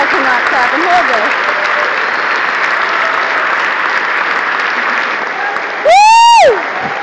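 A large rally crowd claps steadily and loudly indoors, with brief voices in the opening and a sharp whoop or whistle cutting through near the end.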